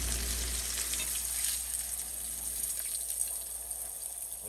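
Pork chops browning in a hot frying pan for smothered pork chops, a steady close sizzle and crackle with no talk.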